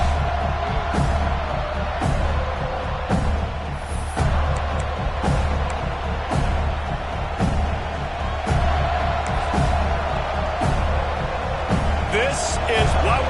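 A football stadium crowd at a college game with the Buckeyes, a steady loud roar and cheering running throughout beneath continuous commentary from a broadcaster.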